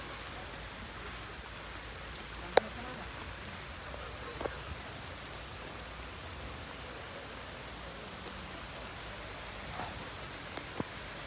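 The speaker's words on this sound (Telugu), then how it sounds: "మళ్ళీ వాన మెల్ల చినుకులు పడుతున్నాయి" Light rain drizzling down again in fine drops, a soft, steady hiss with an occasional faint tick of a drop landing nearby.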